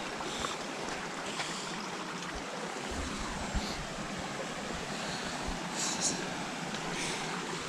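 A mountain stream on a hiking trail rushes steadily, a broad continuous wash of flowing water close by, with no talk over it.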